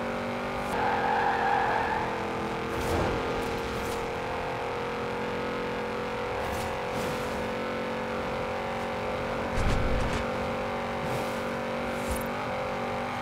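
Audi RS7 V8 engine running steadily in a racing video game, a continuous smooth hum with occasional swells and shifts, moderately loud and alone without talk.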